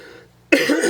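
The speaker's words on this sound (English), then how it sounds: "I'd been coughing a bit throughout the day" One sharp, close cough bursts out after a moment of near quiet.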